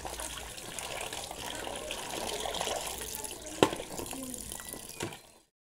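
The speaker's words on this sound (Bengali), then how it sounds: "চলো মাছগুলো ধুয়ে নিই।" Pabda fish being rinsed in water gives a steady splashing and trickling that runs for several seconds, with a clink partway through, before cutting off.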